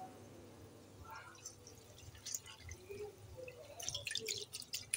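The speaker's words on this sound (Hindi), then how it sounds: "अब हम इसमें थोड़ा सा 1 गिलास पानी डालेंगे" Water poured from a glass into separated dough to wash out lemon sourness while making rasgulla, heard as soft, faint dripping and trickling sounds that grow busier toward the end, in a quiet kitchen.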